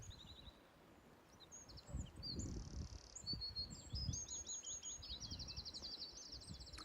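Ravens call outdoors near a parked van, with several chirpy, croaking calls scattered over a steady background of rustle and low wind, fairly distant and moderately faint.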